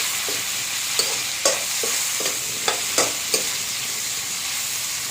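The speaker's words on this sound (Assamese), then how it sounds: "বিলাহী দি অকণমান হিলাই দিব।" Tomatoes being stirred into fish frying in a pan, a constant loud sizzle broken by sharp, irregular scrapes and clacks of a spatula, close up with no talking.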